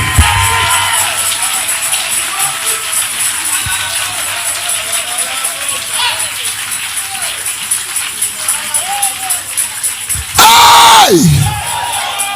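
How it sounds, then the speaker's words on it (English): A church congregation shouts and claps during worship, a continuous roar of voices and hand claps filling the room, with a preacher's amplified voice rising over it and a loud cry near the end. "Somebody shout Jesus. Clap your hands, oh ye people."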